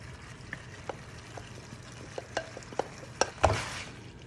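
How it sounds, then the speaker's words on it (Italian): Salmon pieces hitting a hot pan for a pasta with olives and yellow cherry tomato sauce, giving a soft frying sizzle broken by scattered scrapes and taps of stirring, with a louder clatter near the end. "Adesso aggiungiamo il salmone,"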